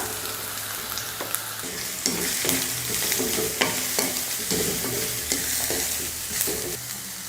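Cut beetroot and carrots stir-fried with softened onions in a pan, steady sizzling broken by repeated scraping and stirring strokes of a spatula, close and moderately loud, with no talking.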